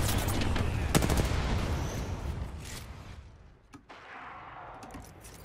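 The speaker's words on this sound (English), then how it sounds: "Opening fire." Rapid automatic gunfire in a ranked Apex Legends match, with dense, loud overlapping bursts over the first few seconds before thinning out to a few scattered shots and background game noise.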